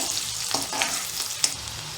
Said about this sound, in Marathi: कांदा लालसर होईपर्यंत शिजवून घ्यायचा। तसंच त्यात हळद, मिक्स करून घ्यायचं,